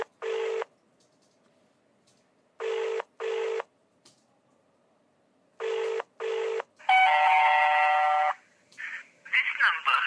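A telephone dials a numbers station, with pairs of clear DTMF keypad tones in separated bursts, followed by a longer electronic tone and a brief voice.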